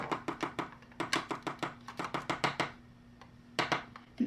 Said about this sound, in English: I'm just going to take some, dust it off in the pan so you don't get it everywhere